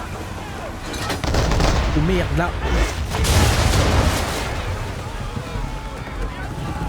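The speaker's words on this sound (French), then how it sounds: "Préparez les canons." Ship cannons firing in the Assassin's Creed 3 video game: loud booming bursts around the second and third-to-fourth seconds over constant wind and sea noise, with someone talking over the action.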